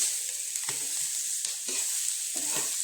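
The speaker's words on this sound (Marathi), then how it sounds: "हे बघा, मक्का फुटून उडत आहे." Maize kernels frying in a pan, a steady hot sizzle with a few soft pops and stirring scrapes breaking through, close and continuous with no talking.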